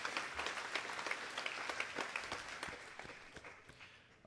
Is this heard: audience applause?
yes